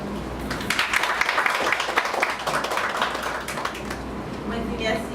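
An audience at a women's day forum applauds, with dense steady clapping from a crowd in a hall and voices under the sound.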